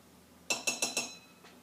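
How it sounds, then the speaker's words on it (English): Spoon clinking against a glass of cold water while stirring in half a teaspoon of salt, four quick bright taps in a row followed by one fainter tap, close and alone. "Make sure you stir that up or else the reaction will take a very long time."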